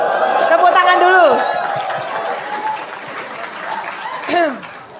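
Audience applause at a crowded drivers' gathering event in Magelang, a steady crowd clapping under loud amplified talk and occasional cheering voices, fairly close and full.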